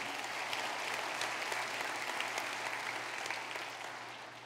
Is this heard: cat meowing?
no